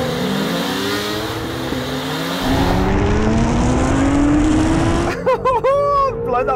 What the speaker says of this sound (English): we're going to have a drag race